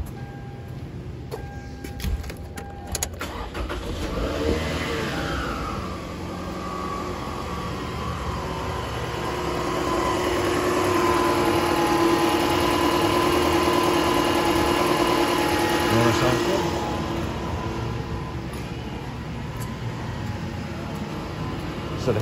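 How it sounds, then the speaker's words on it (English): A Toyota Camry 2.4-liter four-cylinder with about 253,000 miles runs steadily after its accessory belt has been cut, a continuous mid-pitched engine drone with a faint whine that swells slightly and holds level through the middle of the clip. "I'm gonna cut the belt on it so you can hear the difference between the accessories and the actual engine running."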